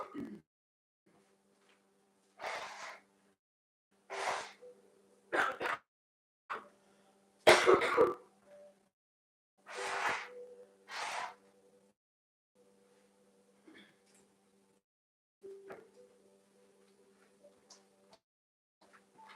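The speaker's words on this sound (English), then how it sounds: "I need to blow my nose." Someone fighting a cold blows their nose in a quiet room, a series of short forceful nasal bursts with pauses between, close and fairly loud, tapering to softer sniffs at the end.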